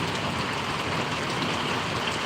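Rain in Paravadi village, Gariyadhar taluka, falls as a constant close wash of drops, dense and unbroken throughout, with no talk.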